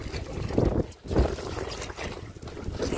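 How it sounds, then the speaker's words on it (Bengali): A headwind blows against a rowing boat on open water while fishing in the Sundarbans, with close, gusty rumbling and buffeting noise that rises and dips in waves and no voices. "উল্টো দিক দিয়ে হাওয়া দিচ্ছে"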